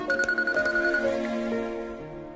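An incoming-call phone ringtone plays a bright melodic tone pattern, steady and clear for a couple of seconds, fading slightly toward the end.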